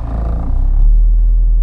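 A Mk1 Skoda Fabia vRS with a 1.9 TDI diesel engine drives along, heard from inside as a loud, steady low engine drone and rumble.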